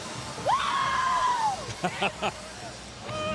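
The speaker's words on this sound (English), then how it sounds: "I think that was a scream of relief." A long, sustained scream of relief after UConn's win over Stanford in the 2010 NCAA women's basketball national championship, followed by a few short shouts over arena noise.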